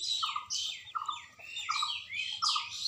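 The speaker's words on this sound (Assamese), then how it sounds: "এইয়া কপৌ চৰাইটো আমাৰ ডাঙৰ হৈ গ'ল উৰিব পৰা হৈ গ'ল কপৌ চৰাইটো" A young pet pigeon, newly able to fly, calling close by in four evenly spaced rasping squawks with a few softer chirps between them.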